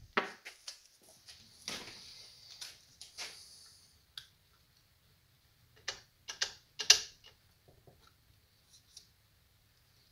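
Small mechanical clicks and ratcheting ticks from a one-way bearing in a Suzuki Vinson ATV wet clutch, handled up close on a workbench during teardown, coming in scattered bursts with quiet gaps and no talk.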